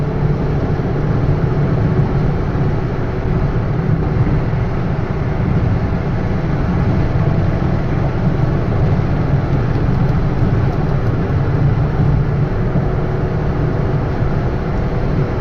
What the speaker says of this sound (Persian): خب الان میریم که شتاب بگیریم. جاده کم سر بالایی، ماشین کم شل میزنه سر بالایی